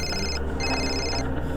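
A phone rings close by in two electronic trilling bursts with a short gap between them, over a low steady background hum.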